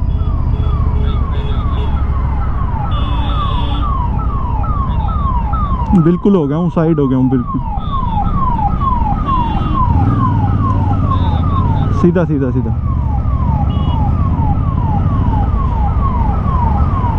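A loud, close ambulance siren wails in a steady repeating cycle on a road between Jaipur and Sambhar, India, while someone talks over it. There are brief bursts of other traffic noise, including a bus.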